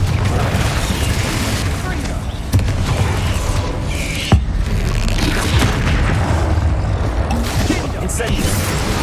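Confringo fire-blast spells cast in Hogwarts Legacy, heavy booming explosions over a constant rumble, with two sharp impact cracks standing out amid the dense combat noise.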